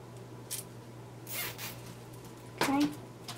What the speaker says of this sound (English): you can just run a little zip tie through one and through the other one